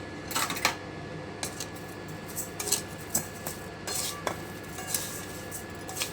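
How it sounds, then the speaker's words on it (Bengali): A spoon scrapes and clinks against a pan while winter melon pieces are stirred with sugar and no water, giving irregular close metallic taps and scrapes over a soft background. "এবারে আমি খুব ভালো করে একটু নেড়ে নিচ্ছি"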